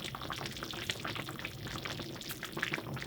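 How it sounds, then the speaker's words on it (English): Soft, steady bubbling of fresh-tomato marinara meat sauce simmering in a pot, quiet and continuous with small pops and no voices. "I have to turn it down to where it's just kind of at a simmer"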